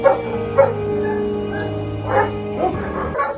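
Several dogs bark and yip from cages in an animal shelter, a dense overlapping chorus of barks with whimpering tones, fairly close and continuous throughout.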